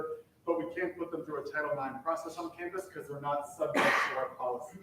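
A single sudden sneeze bursts out near the end while someone speaks steadily at a student government meeting, the sneeze brief and partly masked by her talk.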